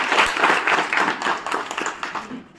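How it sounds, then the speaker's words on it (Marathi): Dense, continuous applause from an audience at a school honouring ceremony, many hands clapping loudly and steadily throughout, close and unbroken with no talk over it. "जोरदार टाळ्या."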